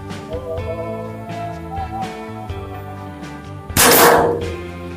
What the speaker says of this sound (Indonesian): Sudah 3 tembakan, ini tembakan keempat.